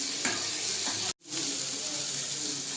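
Onions frying in a pan with a little ginger-garlic paste for a chicken gravy, a steady close sizzle with soft scraping, briefly cut to silence near the middle before the frying hiss returns.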